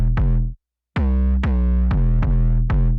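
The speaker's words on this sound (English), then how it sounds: "So make your 808 cut through the mix" A boosted 808 bass in a hard-hitting boy-group track, with mids and highs raised, plays a sequence of punchy pitched hits with a short gap after the first, loud and alone.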